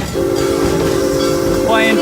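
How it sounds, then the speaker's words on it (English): Another Serengeti Express ride train passes close by with a loud, steady rumble and a sustained horn or whistle-like tone, which bends upward near the end. "Here comes the other train, we're gonna wait."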